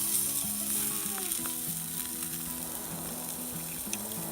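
A tri-tip roast sizzles steadily over a campfire, grilled Santa Fe style. The hiss is close and continuous for the whole stretch, with a few faint pops and crackles and no talking.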